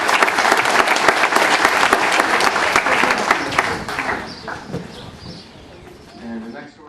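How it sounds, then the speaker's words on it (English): Loud, dense audience applause at the Kentucky Horse Park fades out over a few seconds, leaving faint outdoor sounds and a little talk toward the end. "Ladies and gentlemen, have a nice round of applause again for Funnyside."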